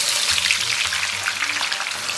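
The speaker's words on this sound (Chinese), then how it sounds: "给锅里边稍微来点油， 咱们把切好的葱姜给它下里边" Chopped scallion and ginger hit a little oil in a wok and fry with a loud, steady sizzle and light stirring throughout, no voices.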